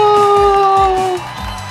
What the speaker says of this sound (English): The crowd watched her and cheered all the more.